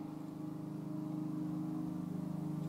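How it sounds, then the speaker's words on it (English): A neighbor's lawn mower cutting grass right outside a window, a low steady engine drone heard faint and muffled through the wall, with no talking. "My neighbor's cutting his grass."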